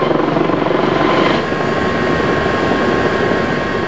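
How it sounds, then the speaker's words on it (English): A London air ambulance helicopter's rotor thumps rapidly and steadily, loud and close, with a constant whining engine drone and no other sounds. "Back at the Royal London, Steve has arrived with Kate Close in the helicopter"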